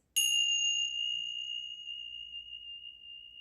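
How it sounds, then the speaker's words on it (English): A meditation chime is struck once during a yoga session, giving a clear bright ring that lingers and slowly fades over several seconds in an otherwise quiet room. "just listen to the chime as one more way to cue your body into peace"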